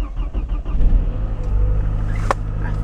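A car engine idles with a low steady rumble, then revs up briefly near the end, close by and alone with no talk.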